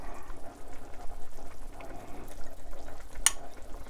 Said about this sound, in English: So you want to give that a stir to recombine it.